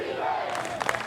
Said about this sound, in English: Home crowd here at Elliott Field chanting for their defense